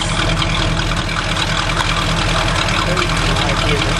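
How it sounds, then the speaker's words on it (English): A 1972 Ford F-100 engine with a cracked muffler runs steadily, a loud, raspy, throbbing exhaust rumble that holds without a break throughout. "Right there is a crack in the muffler. Kind of loud."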